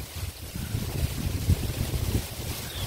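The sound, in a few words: strong wind blowing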